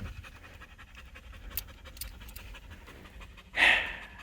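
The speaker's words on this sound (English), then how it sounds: "now I have a stinky wet dog in my car" A wet dog pants inside a car, quick rhythmic breaths close to the microphone under a low road rumble, ending in a louder burst of breathy panting.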